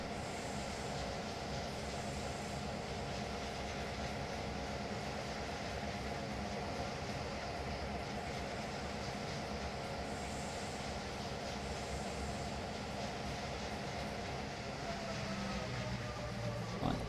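A light tourist train from Trainz: A New Era rolls steadily along the rails in a continuous, fairly quiet rumble of wheels and carriages, with no distinct horn or braking.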